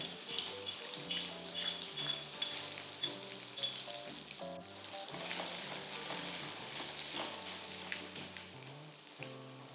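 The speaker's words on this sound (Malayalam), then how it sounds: "ബട്ടർ ഉരുകി വരുമ്പോഴത്തേക്ക് ഇതിനകത്തേക്കൊരു 4 അല്ലി വെളുത്തുള്ളി ചോപ്പ് ചെയ്ത് ചേർക്കാം." Four chopped garlic cloves sizzle steadily in about two teaspoons of melted butter, a continuous close-up frying hiss with light stirring over background music.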